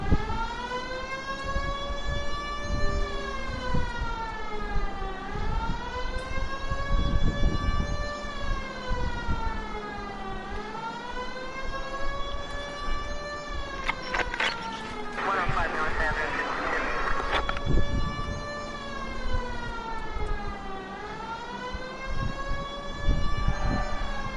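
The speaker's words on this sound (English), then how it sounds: "It's against the rules to drive like this without a siren." A police car siren in the L.A. Noire video game wails in long rising and falling sweeps, loud and steady throughout, with a brief burst of crashing noise midway.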